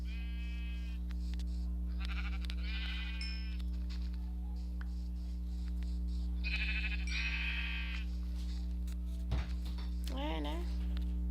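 Sheep bleating in the Minecraft video game, several repeated bleats in short bursts over a steady low game hum, fairly close and clear, with a rising call near the end.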